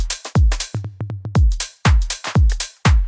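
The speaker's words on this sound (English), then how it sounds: "I have added like a tom fill in between sections." A tom drum fill in a pop remix, a quick run of punchy tom hits between sections with a few short pitched notes in the middle, loud and upfront with no voice.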